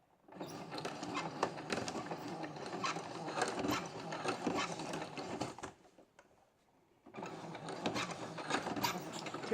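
A sewing machine stitches and backstitches a seam on a fabric-lined suitcase, its needle chattering in a steady rapid mechanical rhythm, close and clear, pausing briefly before starting again.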